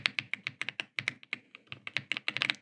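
Fast typing on an Aula F75 Max mechanical keyboard, crisp, close-up keystrokes in uneven bursts with short pauses, heard alone.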